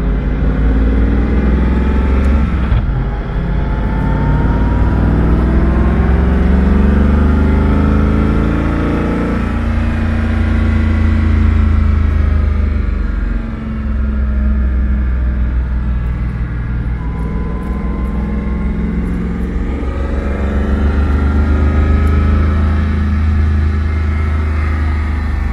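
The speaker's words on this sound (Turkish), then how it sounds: "Ve şu an bir Agera sürüyorum." Koenigsegg Agera hypercar being driven on a race track in France, its engine droning loud and steady throughout with rising and falling revs and a deep continuous rumble, no talk.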